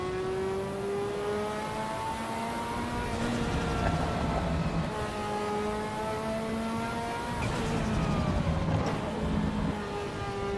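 A Ferrari F40 engine in a racing simulator game, revving and accelerating steadily with rising and falling gear pulls, a couple of brief shifts and faint tire squeal, continuous and fairly close.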